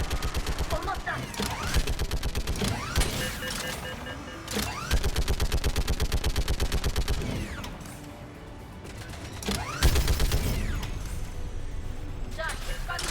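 A gun turret in the Mass Effect 3 video game fires rapid, sustained bursts, a dense mechanical rattle of shots with brief pauses, loud and close, with a voice speaking over part of it.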